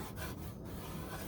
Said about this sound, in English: I'm just gonna sand, get my DA on here, and just sand it down